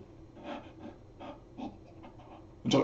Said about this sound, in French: écoute ma respiration